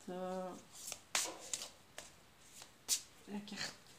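Tarot cards being shuffled by hand in several short riffling bursts and taps, near and fairly quiet, with a voice speaking between them.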